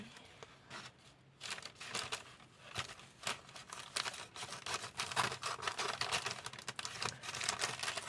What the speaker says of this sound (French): Les ciseaux, je vais couper.